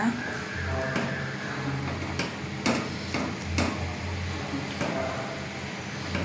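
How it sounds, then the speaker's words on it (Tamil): A spoon scrapes and knocks through thick kesari sweet in a pan, giving irregular clunks and scrapes over a low, steady background hum. "இப்போ நல்லா கிண்டணுங்க. நல்லா கட்டி போடாமல் கிண்டி வச்சு பாருங்க."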